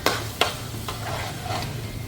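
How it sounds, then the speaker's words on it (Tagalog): Garlic fries over medium heat in a pan for crab spaghetti, a continuous close sizzle broken by a few sharp scraping clacks of a utensil stirring, no voices. "over medium heat lang po hanggang sa talagang maluto-luto lang yung ano, yung bawang natin"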